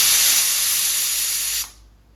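A steel pressure cooker whistle releases steam in a loud, steady hiss that lasts over a second and a half, then cuts off abruptly, leaving a quiet kitchen.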